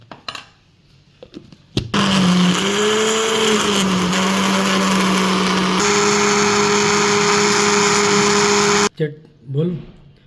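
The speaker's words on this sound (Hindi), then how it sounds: "इसे मिक्स कर लेना ताकि वो अच्छे से ग्राइंड हो जाए" A mixer grinder runs with no water added, blending pomegranate seeds, mint and green chili into chutney. A loud steady whir holds for about seven seconds and shifts pitch partway, then cuts off abruptly, with brief kitchen noises before and after.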